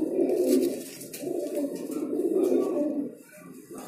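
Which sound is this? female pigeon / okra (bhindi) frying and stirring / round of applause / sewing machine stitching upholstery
female pigeon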